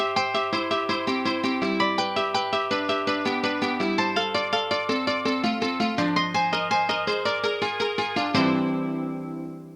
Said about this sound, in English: I'm bringing in a Trond balalaika, why not, and a Trond ukulele and the Trond classical guitar from before.